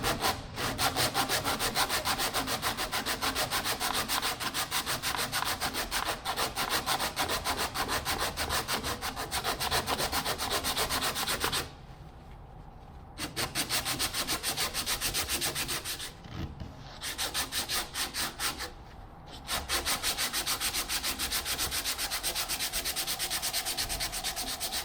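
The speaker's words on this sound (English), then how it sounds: "I will actually take my sandpaper and I'll be working it" Hand sanding of a shaped wooden part for a Minimax 1100R wood aircraft build, with steady, close rhythmic rasping strokes of sandpaper running almost continuously, broken by a few brief pauses.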